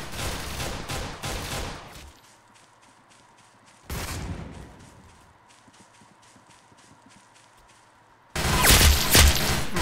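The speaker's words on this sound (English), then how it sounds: "I'm really curious to see how well these two pistols are gonna work shooting at the enemy" Rapid pistol fire in the Roblox Arsenal shooter: bursts of quick gunshots at the start, a single shot near the middle, and a loud volley at the end, with quieter game ambience between.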